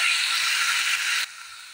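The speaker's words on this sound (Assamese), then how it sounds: "এইখিনি মই ভালদৰে ভাজি ল'ম।" A spice paste sizzles in hot oil with a steady, close hiss that drops off abruptly partway through, leaving a quieter residual sizzle.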